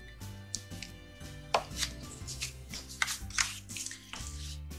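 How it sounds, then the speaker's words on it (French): Folded paper being cut and scored for a handmade scrapbook mini album, heard as a run of soft, irregular snips and scrapes over steady background music. "Donc là on va venir y faire une coupe et un marquage."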